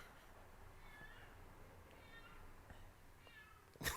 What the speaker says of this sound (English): Look it. There's an actual cat.